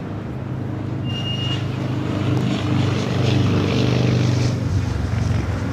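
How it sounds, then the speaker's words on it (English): A British Airways airliner at LAX gives a loud, steady engine roar that swells slightly as it passes, a continuous broadband rumble heard alone. "Second British Airways flight of the day."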